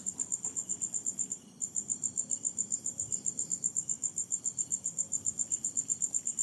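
Frogs calling at night from a backyard swimming pool, a steady rapid pulsing chorus that repeats evenly throughout, moderately loud and close, with faint low background rumble and no voices.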